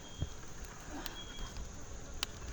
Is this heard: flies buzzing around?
yes